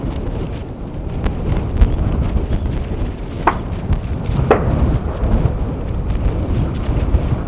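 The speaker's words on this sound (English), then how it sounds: "setting off some fireworks. You probably hear it." Bird-scaring flare-gun fireworks fired at the end of an airport runway give two distant, sharp pops a second apart, partly buried under steady rain and gusting wind noise.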